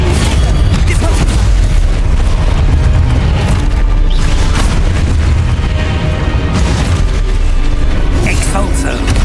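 Dense, continuous spell explosions from the Hogwarts Legacy video game, with repeated booming blasts and bursts filling the whole stretch at high volume, overlapping one another with a voice shouting spell incantations alongside.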